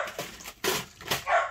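A small dog kept on a chair in a room yelps and whimpers in a few short, close bursts, with no talking.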